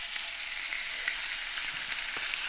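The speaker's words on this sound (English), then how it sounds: "You want this nice sound, frying sound." Salted veal belly frying in a pan, giving a loud, steady sizzle with a bright crackling hiss that carries on unbroken and close, with no talking.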